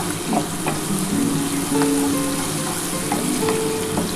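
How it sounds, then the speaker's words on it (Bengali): Onions frying in a pan for a prawn malai curry, a steady close sizzle with scattered crackles and pops and a few light scrapes of stirring throughout, no talk. "তোমার আমার পেঁয়াজটা কিন্তু ভাজা হয়ে গেছে"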